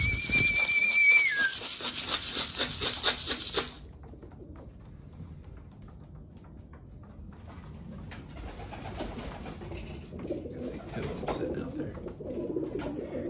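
Racing pigeons coo and call near a loft after a short 20-mile training toss along the Delaware River at Fort Mott, with busy bird sounds at first, then softer calls under outdoor noise.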